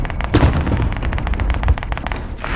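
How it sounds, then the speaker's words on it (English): Gunfire in the video game Warzone Pacific, a fast loud burst of repeated shots firing in quick rhythm throughout, close and dominant with no talking. "One shot here, one shot here."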